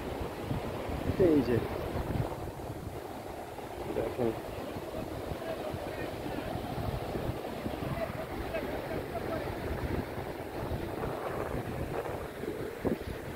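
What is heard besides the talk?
waves and wind on a grassy sea beach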